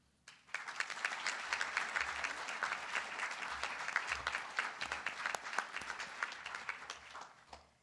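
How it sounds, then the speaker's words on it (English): Sustained audience applause at an awards dinner honoring awardees, dense steady clapping from a large room that starts abruptly and holds for several seconds before tapering. "let's give them another round of applause"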